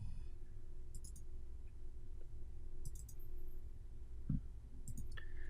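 Sparse, faint mouse clicks come while working in a software interface, a few isolated taps over a quiet low hum of room noise.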